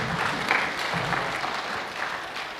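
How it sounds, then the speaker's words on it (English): Graduation ceremony audience at a theological seminary applauding in a steady, dense wash of hand claps that fills the room at moderate level without clear breaks. "Just let's give a hand clap to the Lord"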